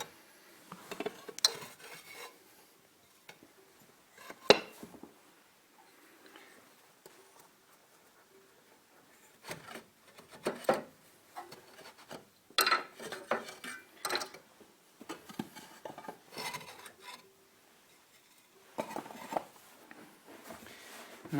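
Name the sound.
bradawls prying out side bricks of Stovax Brunell stove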